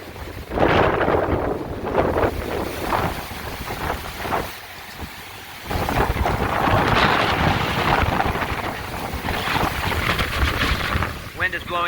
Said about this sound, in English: Wind is blowing out of the north now.